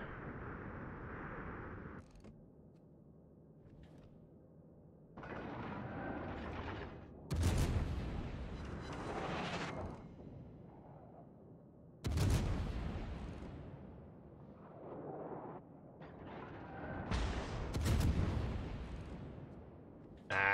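Heavy main-battery salvos from the battleship Hindenburg in World of Warships, with several loud booming volleys several seconds apart, each decaying into a rumbling tail.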